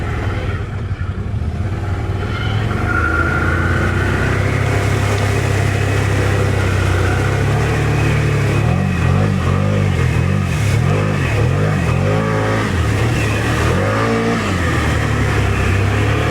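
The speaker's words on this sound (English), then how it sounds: "Wow, those tires throw up some mud." A Can-Am Outlander 1000R backcountry mud-build ATV on 34-inch tires roars through mud, its engine loud and close, revving steadily and then rising and falling in repeated surges, with no voices.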